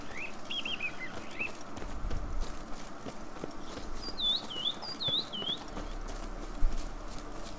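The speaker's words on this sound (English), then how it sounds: "the birds chirping in this are gorgeous" Birdsong in the video game The Witcher 3: Blood and Wine, with a few short chirping phrases, some up close, heard over an outdoor ambience with soft clip-clop footsteps.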